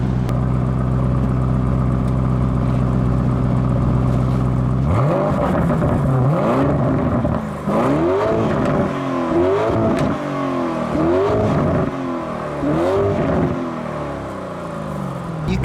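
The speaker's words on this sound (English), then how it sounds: "It's got a great exhaust note," 2019 Lamborghini Urus twin-turbo V8 exhaust, first idling with a deep steady burble, then a series of sharp, loud revs that rise and fall rhythmically, heard up close with no talking.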